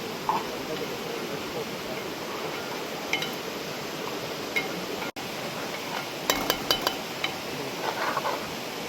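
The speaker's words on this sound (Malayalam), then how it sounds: "പുറത്ത് നല്ല മഴയും" Heavy rain falls outside a Kerala home kitchen during okra pickle making, a steady, even hiss throughout, with a few light clinks of utensils near the end.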